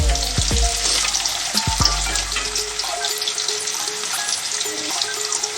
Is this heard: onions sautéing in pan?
yes